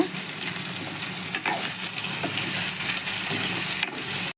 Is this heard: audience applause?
no